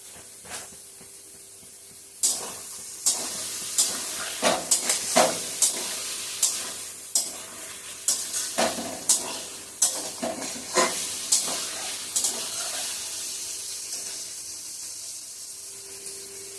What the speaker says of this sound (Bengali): পনিরটা একদম হালকা ভেজে তুলে নিলাম।